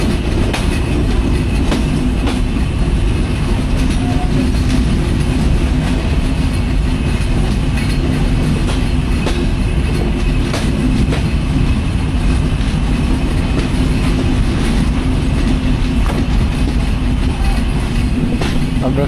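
The Shimanto Express rolls along a broad-gauge line in Bangladesh with a loud, continuous rumble and clatter of wheels on rails, heard from inside the train with no voices.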